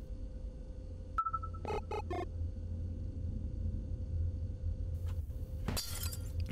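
Yellow glass in Garten of Banban breaking: a short chime, then a few quick clinks, and later a crisp shattering crash near the end, with a faint hum underneath.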